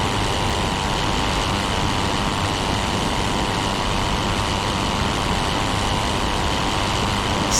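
The rotary engine of a Pfalz E.II World War I fighter plane in Rise of Flight hums as a constant, steady, loud drone from a diving aircraft, unbroken and alone with no voices.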